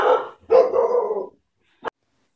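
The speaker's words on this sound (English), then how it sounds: "that's my boss's dog going nuts because the dogs are outside" A dog barks excitedly outdoors in two loud, ragged bursts, then a single short yip after a pause; no talking.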